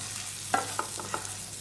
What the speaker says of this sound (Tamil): அப்பப்போ கிளறி விட்டு தவாவில் படுற மாதிரி பிரித்து விட்டுடுங்க